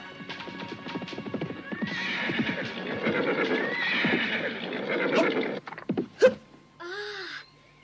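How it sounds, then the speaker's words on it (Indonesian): Horses ridden through narrow alleys in an audio drama sound effect: close clip-clop hoofbeats, a loud whinny partway through and snorting near the end. "mereka berkuda melalui lorong-lorong yang tidak terlalu besar"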